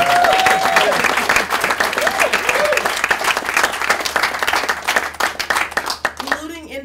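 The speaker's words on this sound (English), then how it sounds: "Give me an applause." Crowd applause at a political endorsement rally, dense clapping with a couple of whistles and cheers running steadily for about seven seconds, thinning slightly toward the end.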